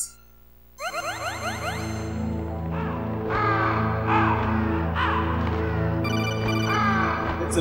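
Crows caw in the 1998 video game Metal Gear Solid, several harsh rising calls layered over a droning synthetic music bed, beginning after a brief shimmering swell and repeating irregularly at moderate loudness.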